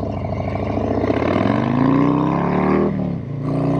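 A Harley-Davidson Low Rider S motorcycle with a 108 engine revs hard, its deep rumbling pitch climbing and then dropping sharply before settling back, loud and close with no talking.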